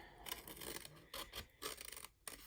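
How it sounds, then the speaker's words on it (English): Scissors snip around the outline of a paper stencil, a quiet run of short, irregular rasping cuts close by with brief pauses between them. "Give it a snip, open it up, and I'm going to cut around my outside line"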